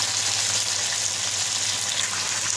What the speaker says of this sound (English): We have taken a very small frying pan just to make sure that we can deep fry.